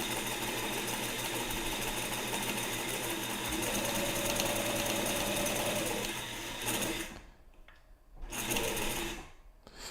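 A sewing machine runs in a long, steady forward stitch, a close continuous whir and rattle for several seconds before stopping briefly and then starting again in short bursts.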